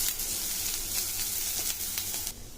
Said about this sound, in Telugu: ఆనియన్ కొద్దిగా కలర్ మారే వరకు మనం కలుపుకొని పెట్టుకోవాలి